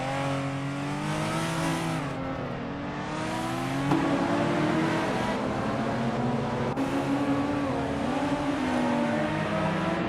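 Retro street cars from an older, slower class race in tight close positions on a video game track, engines droning and revving continuously with rising and falling pitch, loud and steady with no talk.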